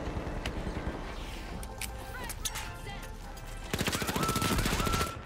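Rapid gunfire from the first-person shooter The Finals, aimed at an enemy turret, with bursts of shots scattered through the first seconds and a dense sustained volley near the end, all over busy game noise.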